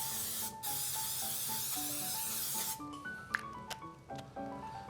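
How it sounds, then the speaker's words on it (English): Short hissing bursts of olive oil spray from an aerosol can onto food, with quiet clicks and light clatter after them, over soft background music. "just spraying those with a little olive oil so that they're going to get a little crust on them"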